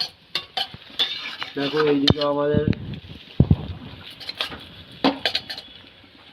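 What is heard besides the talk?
chow mein being stirred and broken in a pan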